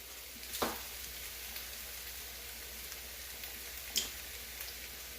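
Potatoes browning in a frying pan, a faint steady sizzle with two brief louder clatters, one near the start and one near the end.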